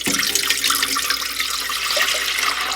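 About one and a half cups of water pours steadily into a bread maker pan, preparing a loaf from freshly milled flour; a continuous splashing rush lasts a few seconds, close and alone.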